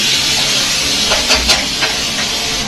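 Boiled moong dal tipped into a hot pan and stirred in, giving a steady loud hiss with a few scraping clatters from the spoon midway, no one speaking.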